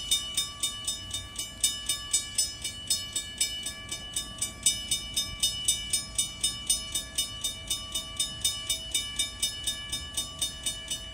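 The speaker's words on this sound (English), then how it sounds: "I think that he may be just an engine only," A lone railway locomotive without cars rolls slowly past, heard at a moderate distance as a steady engine drone with regular rhythmic wheel clicks repeating about every half second along the track.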